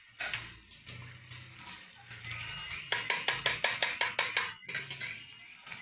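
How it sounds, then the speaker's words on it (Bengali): Water is added to a pot of spicy chicken curry, with a steady pouring wash, clinks of a utensil against the pot and a rapid run of rhythmic metallic taps, all close and without speech. "এবার আমি জল দিয়ে দিচ্ছি।"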